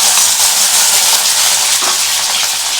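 A small amount of onion frying in hot oil while being stirred, a steady, loud, continuous sizzle with faint scraping from the stirring throughout.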